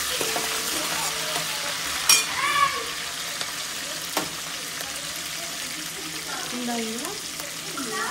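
Curry leaves frying in hot oil in an Indian home kitchen, a steady crackling sizzle with a few sharper pops and a stir, with faint voices in the background.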